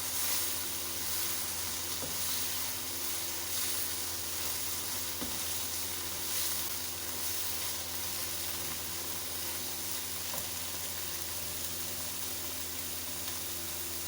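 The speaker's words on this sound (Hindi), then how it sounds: "अब इसे थोड़ा सा और भूनूंगी" Bottle gourd halwa roasting and being stirred in a pan, giving a steady soft sizzle with faint scraping of the spoon, no talking.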